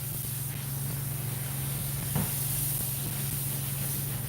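Carpet and upholstery cleaner sprayed during stain removal: a steady, continuous hiss holds for the full stretch with a low constant hum underneath and a brief bump partway through.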